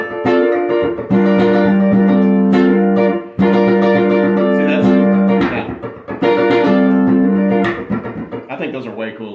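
A guitar riff plays without muting the strings between the accents, so chords ring and sustain in loud, repeated bursts that blur together before trailing off.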